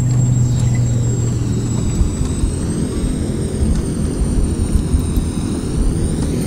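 A Beechcraft King Air 350i turboprop touching down in the flight simulator FSX at night, with a steady loud engine and wind roar, low rumble and faint thumps, plus a high whine running throughout.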